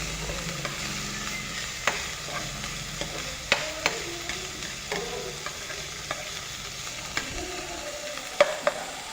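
Okra and winged beans fried in a pan, stirred with a utensil that clacks and scrapes in irregular strokes over a steady close sizzle, with no voices.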